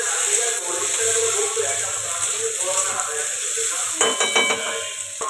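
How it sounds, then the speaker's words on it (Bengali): Potatoes and onions fry in a pan, giving a dense steady sizzle, with a utensil stirring and clinking toward the end and some faint background sound. "আলুটার সঙ্গে পেঁয়াজটাও ভালো করে ভাজবো"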